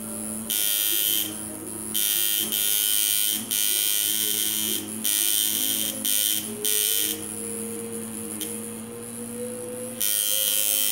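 A tattoo machine fitted with a number 15 needle buzzes loudly and close in repeated bursts, switching on and off every second or so with short pauses, its steady electric whine holding a constant pitch.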